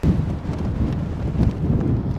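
Strong wind gusting across an outdoor golf course, a steady loud roar buffeting the microphone without a break and no talking.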